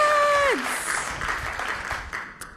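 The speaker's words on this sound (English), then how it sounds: "Round of applause." Comedy club audience applauding, starting right after a voice stops and carrying on as a moderate, even wash of claps and crowd noise before thinning toward the end.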